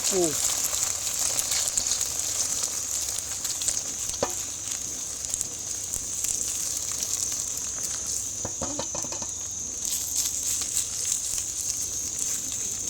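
A two-egg omelette with about fifteen bird's eye chilies frying in boiling oil, a loud, steady, close sizzle with occasional scraping stirs and someone talking over it.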